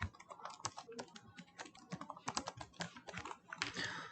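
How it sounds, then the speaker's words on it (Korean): Someone types an administrator password on a computer keyboard, a quick irregular run of close, crisp key clicks with short pauses and no voices. "관리자 계정의 패스워드를 입력합니다"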